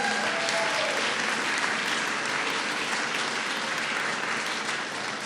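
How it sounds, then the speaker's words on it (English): Steady, dense audience applause at a political event introducing a parental choice in education act, sustained at an even level throughout without pauses, heard from within the crowd. "Big round of applause to Mayor Byron Brown."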